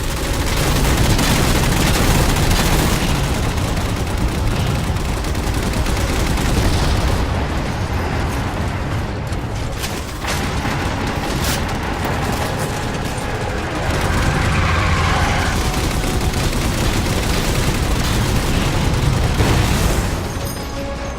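Gunfire and explosions while shooting down jammers in Halo 4, a continuous loud barrage of weapon fire mixed with booming blasts and bursts lasting around twenty seconds, close, with no talking.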